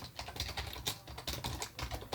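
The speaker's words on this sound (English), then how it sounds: "You can hear me typing." Fast typing on a computer keyboard, close up, with irregular bursts of crisp key clicks and short pauses between runs, no voices over it.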